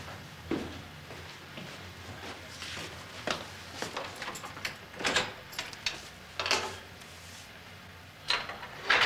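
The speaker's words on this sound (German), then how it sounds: "Ich schließe nur die Tür ab." A door in a home is locked at bedtime: a scattered run of small metallic clicks, knocks and rattles over several seconds, close and moderately loud, with no speech.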